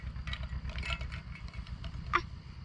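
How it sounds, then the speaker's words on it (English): A farm tractor engine runs at a distance, giving a steady low rumble that fills the clip beneath a few faint higher sounds, with no voices. "You hear that tractor?"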